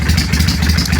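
Kawasaki Vulcan 800 motorcycle engine idling slightly lumpy during idle speed adjustment, a loud, close, steady low throb with a light mechanical clatter.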